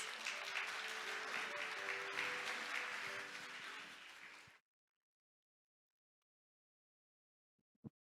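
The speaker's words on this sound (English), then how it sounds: "let's welcome him on the stage with a warm round of applause" Audience applause welcoming a closing speaker onto the stage at a maritime week event, a dense steady clapping that runs for about four and a half seconds and stops abruptly, followed by near silence with a faint knock near the end.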